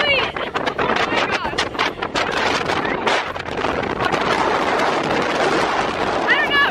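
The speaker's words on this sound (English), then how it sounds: "It's so windy right here." Strong wind roars and buffets straight into the microphone in heavy gusts, with brief voices barely showing through at the start and end.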